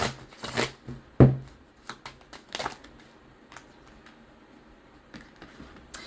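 Oracle cards being shuffled by hand, a quick burst of riffling flicks and soft slaps at the start followed by scattered lighter card taps and shuffles, close and fairly quiet with no talking.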